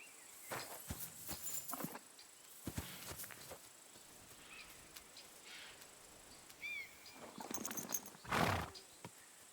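Horses in the video game Kingdom Come Deliverance II, with scattered clip-clop hoof steps, snorts and a short whinny over a quiet outdoor bed of insects and crickets.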